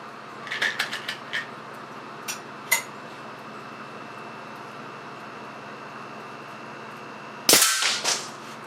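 Air cannon shots hitting a steel bathroom sink: several sharp, cracking impacts in a quick burst, then a pause and a louder crack with a metallic ring of ricochets, separated by quiet stretches.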